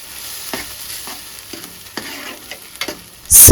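Garam masala paste sizzles in a pan as a spoon stirs it in repeated scraping strokes about every half second, each with a sharp crackle, ending in a loud burst with no voices.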